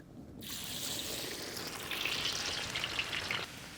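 Garlic hits hot oil and erupts into a loud, steady, crackling sizzle that stays close and continuous throughout, with no talking over it.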